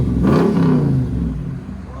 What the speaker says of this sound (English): What a throaty truck